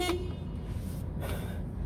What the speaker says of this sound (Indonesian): dan ini bunyi klaksonnya